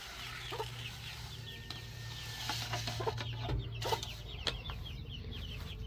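Young chickens cluck and peep in a barn, a busy chorus of small repeated calls with occasional clatter of equipment nearby.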